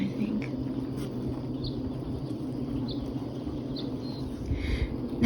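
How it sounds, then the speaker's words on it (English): Low, steady droning hum of honeybees at work inside a springtime beehive, close and continuous, with faint scattered higher buzzes and clicks over the murmur. "That's the sound of the hive."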